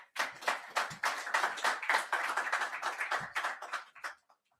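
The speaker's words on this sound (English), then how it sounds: "Can I ask just for a warm round of applause for him," Warm audience applause at a World Economic Forum session in Davos, individual hand claps distinct and close, rising into a rhythmic patter before tapering off to a few last claps.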